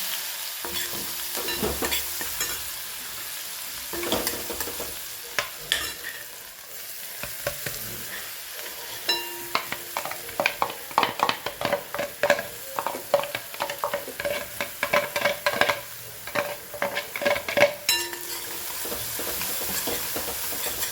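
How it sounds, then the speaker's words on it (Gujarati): Cumin, asafoetida and chopped onion fry in hot oil with a steady, close sizzle, while a spoon stirs and taps the pan in quick clinks that grow busier toward the end. "જીરું, હિંગ અને ચોપિંગ કરેલી નાને ડુંગળી એડ કરી દઈએ."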